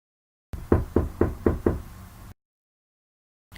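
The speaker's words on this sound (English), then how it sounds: "so I just knocked really hard" Five hard, evenly spaced knocks on a door, close and loud, followed by silence and a brief later sound.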